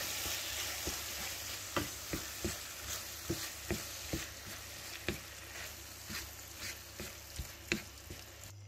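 Chicken curry with crème fraîche bubbles gently in a pan, a soft continuous sizzle broken by regular light taps and pops roughly every half second, quiet and close with no voices.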